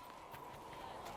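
A horse gallops in the fantasy video game Dragon Age Inquisition, with quick rhythmic hoof thuds at moderate distance under a steady game hum, faint and continuous.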